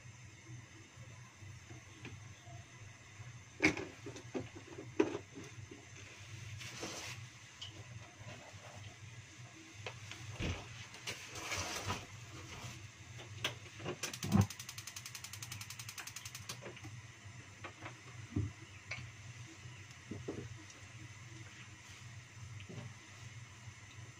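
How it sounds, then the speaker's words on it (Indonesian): Kitchen exhaust hood running as a low steady hum while vegetables are stir-fried, with faint clatters and scattered sharp knocks and sizzle bursts over the drone. "Maaf agak berisik ya guys ya. Aku buka itu apa mesin penghisap biar enggak berbau"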